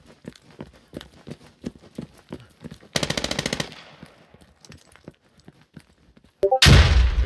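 Gunfire in the military shooter game Squad: scattered close single shots and footsteps, then a rapid automatic burst and a loud blast at the end, with no speech.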